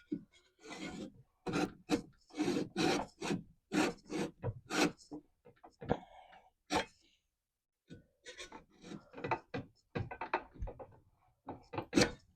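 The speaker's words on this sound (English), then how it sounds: "I trimmed the glue block that somehow drifted with my trusty Japanese saw here" Close, steady rasping strokes of a Japanese hand saw trimming a glue block inside a water-damaged mid-century particle board dresser, back-and-forth bursts with a brief pause midway before sawing resumes.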